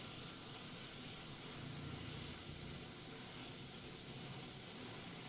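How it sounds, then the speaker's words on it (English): A Transall C-160 twin-turboprop engine spools up during engine 2 start in Microsoft Flight Simulator, a steady broadband roar and whine that swells slightly, with no talk over it. "We got good engine start on that one."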